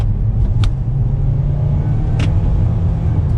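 A 2021 Kia Seltos SUV in sport mode gives a steady, loud cabin drone of engine and road rumble that holds evenly throughout, with a couple of brief light clicks.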